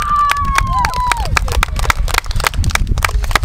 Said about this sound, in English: Clap it up on a job well done.